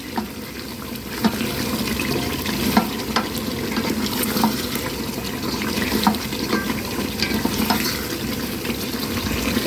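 Duck curry with hand-mashed potatoes frying in oil, stirred steadily in a village-style pan, giving a continuous sizzle with scraping spoon strokes and occasional sharper clinks, close and even throughout.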